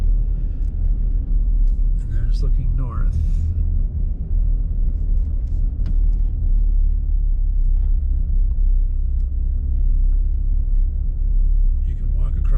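Steady low road rumble from traffic crossing a very narrow bridge over the Delaware River near Belvidere, NJ, continuous and close throughout, with someone talking briefly over it.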